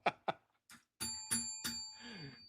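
A bell sound effect rings out in a quick run of bright, tonal strikes, the later ones longer and sustained with ringing overtones, loud and close with no talk over it.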